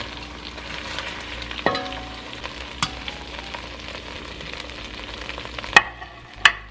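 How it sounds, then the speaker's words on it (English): Thick pieces of beef fry in a pan with a steady, gentle sizzle, broken by a few sharp clinks and taps of a utensil, especially two crisp hits near the end; close, no talk. "go ahead and fry your second batch for the same amount of time"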